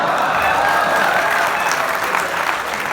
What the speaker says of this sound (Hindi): ताली बजाओ जरा